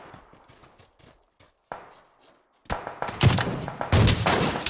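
Gunfire in PUBG Battlegrounds, a scattered run of individual shots at first, then a loud, dense stretch of rapid bursts that sounds close, with shots overlapping.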